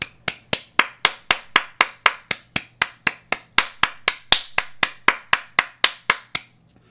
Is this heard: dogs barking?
no